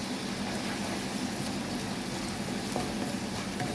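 Ginger sizzles steadily as it fries in an oily pan, a continuous close frying hiss with a faint low hum underneath and no talking.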